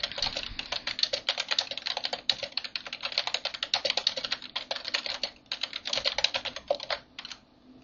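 Fast, steady typing on a computer keyboard close by, a dense run of clicking keystrokes with brief pauses, trailing off at the end, no voice.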